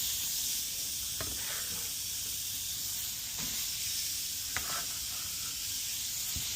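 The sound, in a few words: onions sizzling in Our Place titanium pan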